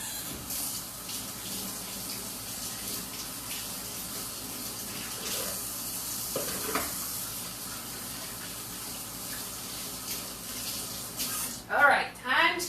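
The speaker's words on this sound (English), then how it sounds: "Okay, I gotta wash my hands." Water runs steadily from a kitchen tap while hands are washed, a continuous close gush with a few louder splashes near the end as the flow changes.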